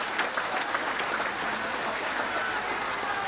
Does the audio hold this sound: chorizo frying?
no